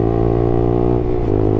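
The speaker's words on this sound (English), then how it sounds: "this exhaust without the baffle, it's a madness" A Lexmoto LXR motorcycle with its exhaust baffle removed drones loudly and close up, a steady, raspy engine note that holds for the short stretch with no voices.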